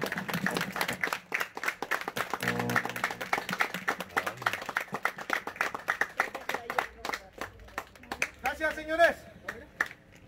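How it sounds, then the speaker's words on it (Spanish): An audience at a small wrestling arena claps in a steady patter of applause, fairly loud and continuous, with a voice speaking over the clapping. "Un aplauso, por favor."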